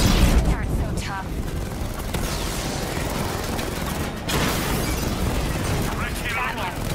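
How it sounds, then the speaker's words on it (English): Booming cannon fire and explosions from a tank in the Batman: Arkham Knight video game, heavy and sustained beneath game dialogue and a player's talk, with a louder blast about two-thirds of the way through. "Just fire the tank."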